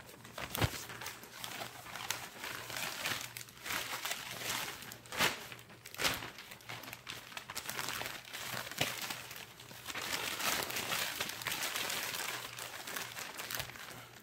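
A plastic bag crinkles and rustles close by as a King Oscar sardine tin wrapped in paper towel is sealed inside it, with irregular crackling bursts and soft handling knocks throughout.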